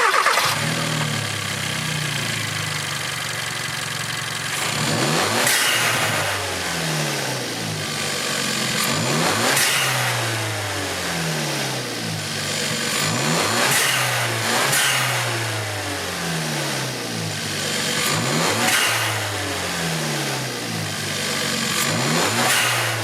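Hyundai Elantra GT N Line engine fitted with a Takeda cold air intake, revved repeatedly from a steady idle in rising and falling surges, loud and close with no talking.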